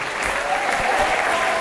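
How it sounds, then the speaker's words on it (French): An audience claps steadily for the cast of a staged community show, a dense, sustained wash of applause from a crowd with no gaps. "On peut les applaudir bien fort"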